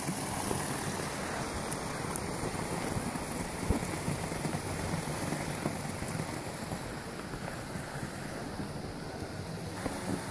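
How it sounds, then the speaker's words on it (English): An outdoor water fountain near a flag display gives off a constant, fairly loud rushing splash, an even broadband wash with no pauses and no speech. "if y'all hear a noise, it is the water fountain"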